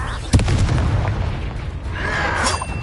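A spell blast explodes in Hogwarts Legacy combat: one sharp, booming detonation up front, then a rumbling, crackling tail and a whooshing magical sweep later, all loud and close.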